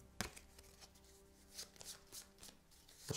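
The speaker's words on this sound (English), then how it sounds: "We'll shuffle up our village or our town deck." A deck of game cards is shuffled by hand, giving a quick sharp riffle followed by soft irregular flicks and taps, close and quiet.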